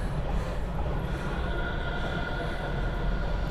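A passenger train runs toward Jakarta, heard from inside the carriage as a loud, continuous rumble and rattle that stays constant throughout, with no talking.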